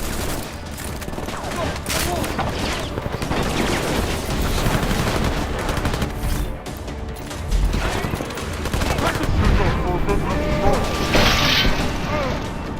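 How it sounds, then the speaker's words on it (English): Gunfire rattles through a combat sequence in the video game Deus Ex: Mankind Divided, with sustained bursts and mechanical clatter layered over continuous action sounds while a narrator talks over it. "Now that we fully engaged combat, we will show some of Adam's augmentations, such as the focus mode or the Pep's gun arm."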